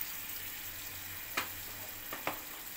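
Tomato puree with asafoetida sizzles in hot ghee as a steady, close hiss, broken by two or three brief sharp spits or stirs, with no talking.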